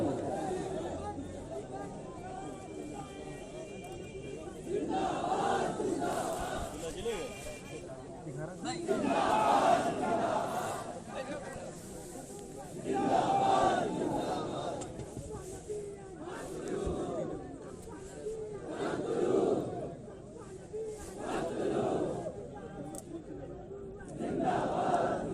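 A large crowd at a religious gathering chants slogans in rising and falling waves, loud roaring bursts of many voices returning every few seconds over a continuous murmur, with amplified speech mixed in.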